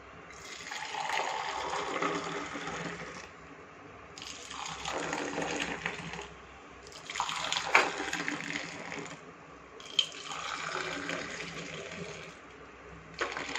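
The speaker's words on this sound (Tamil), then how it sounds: "டம்ளர் எடுத்து ஊற்றிடலாம்" Pepper masala tea is poured into a tumbler in four separate streams, each a few seconds long, splashing softly and close by, with short pauses between them.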